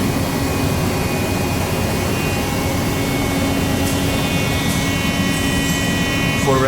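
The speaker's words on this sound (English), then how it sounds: "overall view of the Mori Seiki lathe. In shop under power" A Mori Seiki SL25A/500 universal CNC lathe runs under power in a shop, giving off a loud, steady mechanical drone with a constant whine and no talking.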